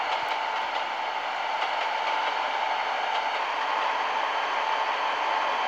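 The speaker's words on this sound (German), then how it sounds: "Und das ist dann mein Intercity Express." An Intercity Express train runs along the track in Trainz Simulator, giving a steady, even rolling rumble and hiss that carries on without a break the whole time, with no talking.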